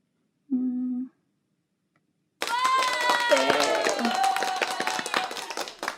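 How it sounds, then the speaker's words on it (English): Applause sound effect played during a live stream, starting after a short tone and a pause, then a dense wash of clapping with cheering voices that runs to the end. "they had a sound effect here of an applause"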